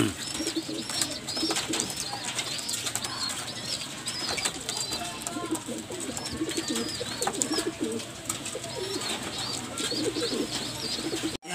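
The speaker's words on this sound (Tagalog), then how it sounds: "So, yan mga kalapatids kung nakikita nyo." Pigeons at feed in a coop, soft repeated cooing close by with occasional wing flaps and chirps, a busy continuous flock murmur throughout.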